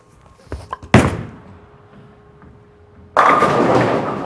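An Ebonite Fireball purple and gold bowling ball is played on a fairly straight line, with a few light knocks and a heavy thud at release, a quiet roll, then a loud burst of pin crash and clatter near the end.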